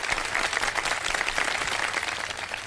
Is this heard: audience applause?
yes